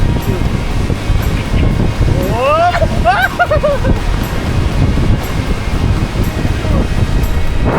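Strong wind buffets the microphone with a heavy, continuous low roar, while people talk and call out briefly through it.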